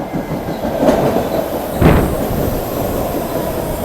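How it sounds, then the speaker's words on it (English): A train rumbles into a station loudly, with low heavy rolling noise, a couple of brief squeals, and steady clatter as it draws close. "And here comes the train."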